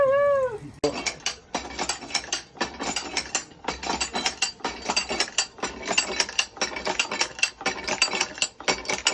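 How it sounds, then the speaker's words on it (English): Ratcheting wine press squeezing Syrah grape must, a long series of loud, rhythmic wooden-metal clacks and ratchet clicks close by, preceded by a brief cat meow. "We are ratcheting down on this load of grape must and squeezing out the rest of the juice."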